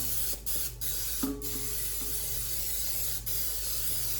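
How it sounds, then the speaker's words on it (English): Short bursts of cooking spray hiss into a cake pan, several quick sprays with pauses between them, close and fairly quiet over a low steady background hum. "I'm just going to do this way by just spraying some cooking spray"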